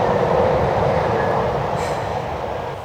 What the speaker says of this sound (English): Traffic is still pretty heavy.